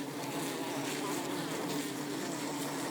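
Dense, continuous buzzing of many honeybees sitting on a hive's landing board, close at hand, a steady droning hum with no pauses.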